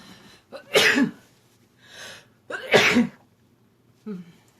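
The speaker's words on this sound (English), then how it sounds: "And I'm going to sneeze." Two forceful sneezes burst out close up, each with a sharp inhale before it and a breathy release, followed by a short throat sound while making a Thanksgiving cornucopia craft.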